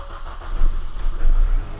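VW Golf GTI engine cranking and catching after a jump start from a power bank, a short loud burst of low rumble that swells and settles into running within two seconds, close up.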